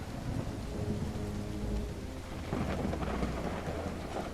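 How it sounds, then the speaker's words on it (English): Heavy rain pours in the game Call of the Elder Gods, a dense continuous hiss with deep rumbling beneath that swells slightly partway through, steady and close with no voices. "It's raining cats and dogs here."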